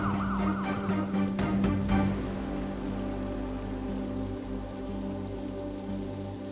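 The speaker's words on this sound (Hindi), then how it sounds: "ये यार बंद करो यार सायरन" Ambulance siren wailing near the start, a rising and falling tone that cuts off after about two seconds, leaving a steady low hum and rain-like hiss.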